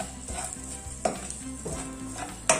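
Pieces of idli fry in a pan with a steady close sizzle, and a few sharper stirring clinks come through over the short stretch.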